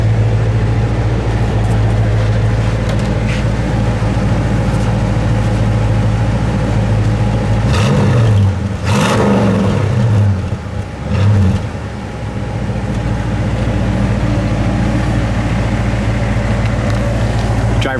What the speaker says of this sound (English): Rev it up a little bit